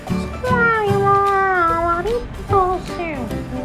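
A cat gives several close, drawn-out meows that rise and fall in pitch, with a short pause before a couple more, heard alone without speech.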